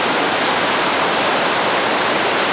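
Montana river rapids and waterfalls make a steady, loud, broadband rushing roar of white water with no breaks and no voices.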